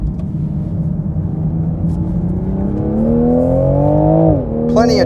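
A car with a linear engine making 500 Nm of torque from low revs pulls hard, its steady engine note rising in pitch over several seconds, then dropping briefly as it shifts before climbing again, close and loud.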